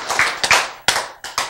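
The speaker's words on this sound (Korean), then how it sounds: "이거는 박수를 한번 해야죠." Church congregation clapping in short bursts: a handful of sharp, close claps in an uneven rhythm with brief gaps between, fairly loud, with no voices.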